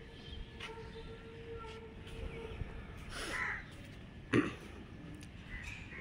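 A crow on a neighbouring rooftop gives a couple of short caws, one near the middle and a sharper one shortly after, over a faint, low background hum under a cloudy morning sky.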